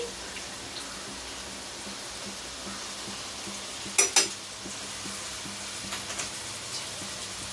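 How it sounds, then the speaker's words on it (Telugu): Steady low sizzle of spice tempering frying in a pan for fish curry, with a couple of sharp clicks and pops near the middle. "ఈరోజైతే నేను పోపు అనేది ఫ్రై చేసి పులుసు అనేది పెడుతున్నా"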